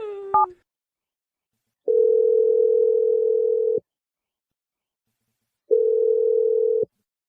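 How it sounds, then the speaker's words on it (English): Telephone call being placed: a brief burst of dialing tones, then two long, steady ringback tones separated by silence, heard loud and clear over the line. "I'm going to dial her number right now."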